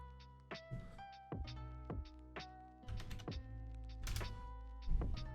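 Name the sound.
typing on a computer keyboard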